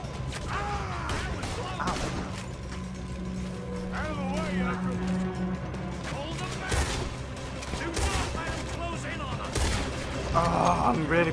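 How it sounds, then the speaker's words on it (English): Gunfire during a barn gunfight in Red Dead Redemption 2: scattered cracks and bursts of shots ring out amid clattering action, mostly under steady character talk, with louder volleys near the end. "This is a proper gunfight."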